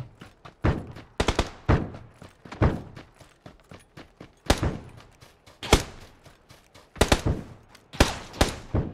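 Automatic rifle fire in the battle royale game PUBG, heard as repeated bursts of sharp shots in irregular clusters, some loud and close, others quieter, spread across the whole stretch.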